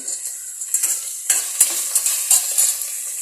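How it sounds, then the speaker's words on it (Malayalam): Two handfuls of shallots are stirred in a frying pan: close, uneven scraping strokes and light clatter over a bright, steady sizzle, with no voices. "2 കൈപ്പിടി കൊച്ചുള്ളി ഇട്ട് നന്നായിട്ട് ഇളക്കുക"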